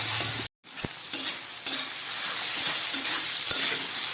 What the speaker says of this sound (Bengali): এবার সব একসঙ্গে আমি আরেকটু ভেজে নিচ্ছি।